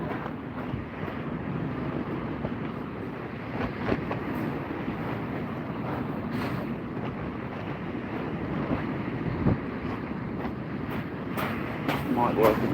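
Gusty wind buffets the microphone beside a kayak angler's fishing bivvy at the shore, a dense, rumbling roar that swells and eases throughout the clip, with water wash underneath.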